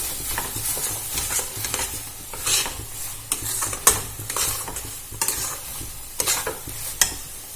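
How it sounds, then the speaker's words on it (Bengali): Amchur posto mixture being stir-fried in a pan, with a constant sizzle under regular scraping spatula strokes roughly every second, close and clear with no talking. "এবার এটা খুব ভালো করে কষিয়ে নেব।"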